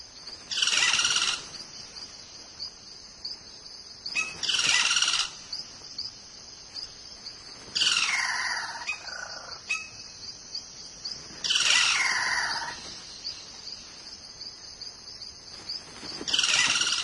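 Amazonian rainforest birds, gifted ventriloquist mimics, call in four loud bursts spaced a few seconds apart, each a rich chorus-like squawking phrase over a continuous high insect drone.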